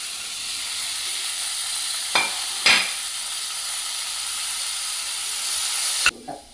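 Garlic and tomato fry in a pan for a pappadam and egg dish, giving a steady close sizzle with two quick stirring scrapes early on and another near the end, with no talking.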